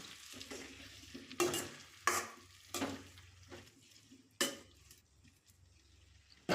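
Green chillies, tomato and eggs being stirred into hot oil for a curry, with a steady low sizzle punctuated by five or six distinct scraping stirs of the spoon against the pan; no voices.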